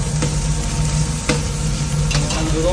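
Mushrooms fry with beef in a pan, a loud close sizzle with a few sharp scraping stirs of a utensil breaking through.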